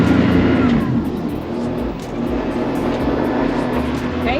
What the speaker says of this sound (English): Bow thruster, bow thruster, bow thruster.